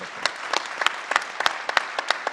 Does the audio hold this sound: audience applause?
yes